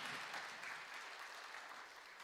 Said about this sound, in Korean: 우리 격려의 박수 한번.